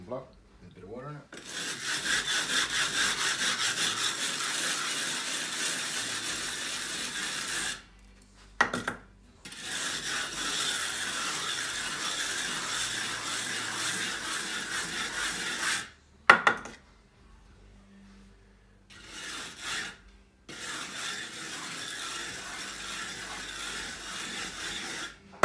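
A wooden float, wetted with water, scrubs across sand render in long steady rasping strokes, loud and close, broken by short pauses and a few knocks, with occasional talk.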